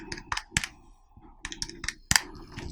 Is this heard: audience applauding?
no